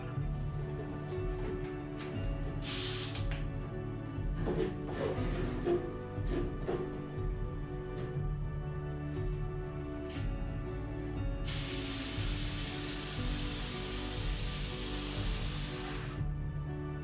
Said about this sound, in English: I was having a bit of a nightmare with the spray gun not spraying correctly.